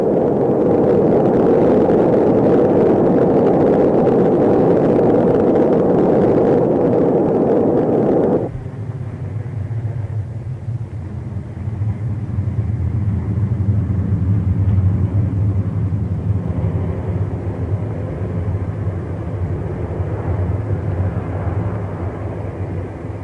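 An Atlas Centaur rocket lifts off with a heavy, sustained roar that abruptly drops to a lower, steady rumble partway through, loud and continuous with no talking.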